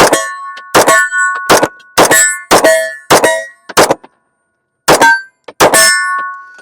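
A Colt El Senor 1911 pistol chambered in .38 Super fires a quick string of sharp, loud, ringing reports, about eight shots with irregular gaps and one longer pause, close by and without talk.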